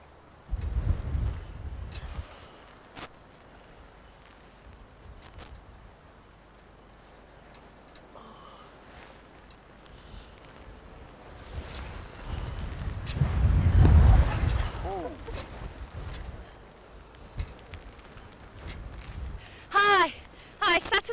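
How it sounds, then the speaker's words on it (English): Strong wind on an exposed headland at a shipwreck site buffets the microphone in low rumbling gusts that swell and fade, loudest near the middle, with a voice speaking briefly near the end. "it's very windy up here, and we can hardly stand up"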